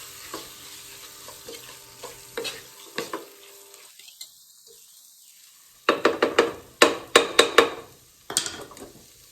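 Chicken and spices cooking in a pan for Moroccan chicken with olives and lemon, with close intermittent sizzling, stirring scrapes and clatter, a quiet pause midway, then sharper bursts of sizzle and stirring.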